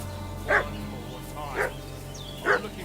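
A dog in the medieval role-playing game Kingdom Come Deliverance 2 lets out three evenly spaced barks about a second apart, moderately distant over a low ambient background.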